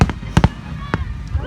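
Fireworks at an outdoor show burst in several sharp, loud bangs, a quick pair followed by spaced single booms, over a steady background rumble.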